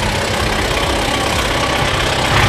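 A tractor engine runs continuously at a steady idle, loud and close, with a rough knocking low chug and no voices over it.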